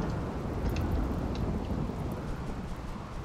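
Steady heavy rain pours down with a low rumble of thunder rolling underneath in the video game RimWorld, dense and continuous throughout.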